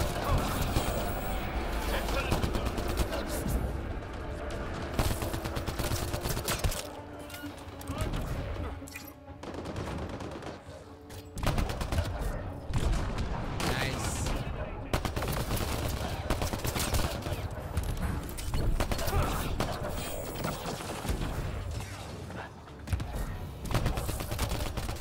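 Sustained gunfire and combat noise fill a firefight in Mass Effect: Andromeda, dense and loud almost throughout, with brief lulls between volleys.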